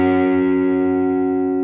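An electric guitar plays a double stop, two picked notes sliding together as a pair, sustaining steadily and fairly loud for under two seconds with no voice over it.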